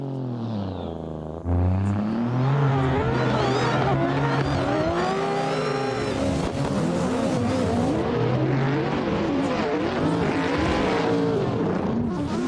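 Several race car engines in a drifting video game at Rockingham whine and rev loudly, pitches rising and falling as cars accelerate and shift, with occasional tire squeals, continuous throughout.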